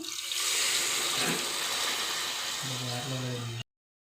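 Hot water is poured into a simmering pot of village-style egg curry, a steady close splashing rush lasting about three and a half seconds, with a voice briefly audible toward the end.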